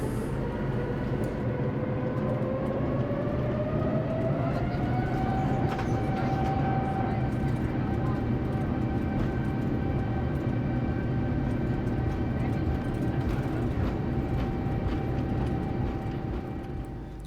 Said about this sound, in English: We're ready for takeoff now